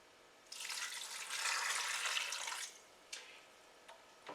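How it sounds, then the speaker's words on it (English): Water poured from a container into an Instant Pot holding red potatoes for a low country shrimp boil, a steady splashing stream for about two seconds, then a few small drips and clinks nearby. "Now we're going to add 2 cups of water."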